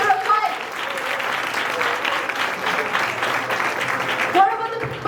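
Audience applause fills a moot court competition hall for one of two finalist teams, a steady dense wash of clapping that swells and fades over five seconds, with brief voices at the start and end.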